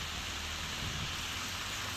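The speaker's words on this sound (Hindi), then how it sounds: "कल से लेके अभी तक बारिश हो रही है, दिखा तो अभी भी बारिश हो रही है।" Steady rain falling through a wet evening, a dense, even hiss of drops holding at one level throughout with no voices over it.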